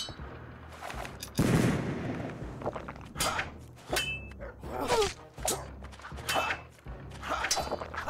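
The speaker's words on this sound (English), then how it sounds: "He got that gunshot off at the beginning." Gunfire in the pirate-era video game Caribbean Legend: a string of sharp, loud shots and impact cracks with scattered footsteps and clatter, bursts spread across the stretch.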